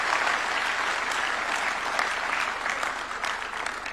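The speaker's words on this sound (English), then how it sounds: "A round of applause for her." Sustained applause from an audience at a State House awards ceremony, a dense, even wash of clapping that continues throughout and tapers slightly at the end.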